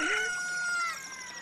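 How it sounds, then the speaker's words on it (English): A cucco, the chicken from the video game Zelda: Ocarina of Time, crows once in a single bright, close, loud call that trails off, with no talking. "I think I have to use the chicken."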